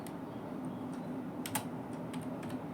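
Soft, fairly quiet typing of C code on a computer keyboard: scattered individual key clicks in irregular bursts over a low room hum.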